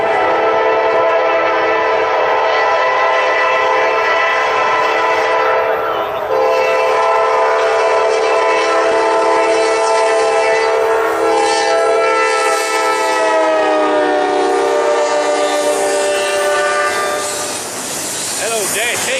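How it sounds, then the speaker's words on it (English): A GE Dash 8 freight locomotive hauls a long train of container cars and loaded automobile racks, its horn blaring in long, loud, sustained tones that shift in pitch, over a steady engine and rail rumble. "Dash 8 doing some pulling"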